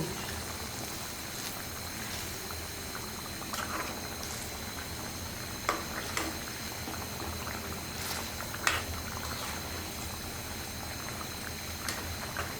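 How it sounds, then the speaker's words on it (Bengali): Colombo fish curry with taro being stirred in a pan, heard as a steady, low bubbling simmer broken by sporadic faint clinks and scrapes of the utensil. "এখন আমি তরকারিটা আবারও নেড়ে দেবো"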